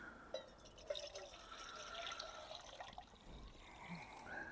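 About 500 ml of water poured into a cooking pot on a budget stove: a faint, steady splashing trickle with scattered drips, close by, with no talking.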